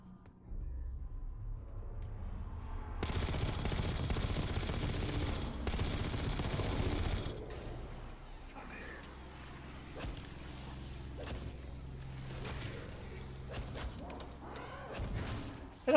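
Call of Duty Black Ops 6 gunfire against zombies: a long dense burst of rapid automatic fire up close, then scattered single shots and sharper cracks over a low background rumble.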